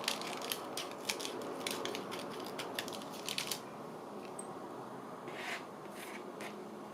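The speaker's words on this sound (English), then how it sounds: "So I'm just going to cut just that little piece." Scissors snip through paper while a craft journal is worked on, a cluster of short crisp cuts near the start followed by a couple more snips later, close and fairly quiet over a faint room hiss.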